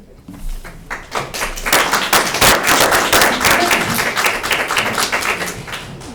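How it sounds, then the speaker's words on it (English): Audience in a planning and zoning meeting room breaking into applause, a sustained crowd of clapping hands rising quickly and holding steady, fairly loud and close. "You can hold your applause to the end."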